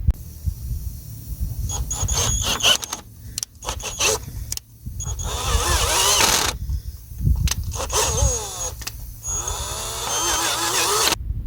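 A power drill bores out a stripped brake caliper bolt hole, whining and grinding in repeated bursts with pauses between, close and loud, with a low mechanical drone underneath.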